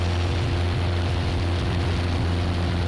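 A Piper Warrior propeller plane cruises in flight near Hartford, Connecticut, its engine a loud, steady low drone with a constant propeller hum, heard from inside the cabin.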